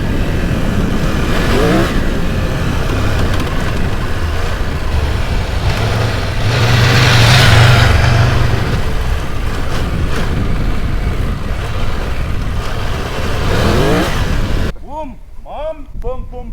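A Triumph Tiger 1200 motorcycle ridden off-road, its engine droning and revving loudly and steadily for most of the stretch before cutting away to a person talking near the end.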